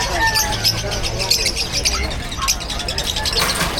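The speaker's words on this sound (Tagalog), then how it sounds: "Dami ibon ni Boss Khalid ulit" Many caged birds at a pet market in Bocaue, including lovebirds, chirp and squawk continuously in the background while someone talks over them.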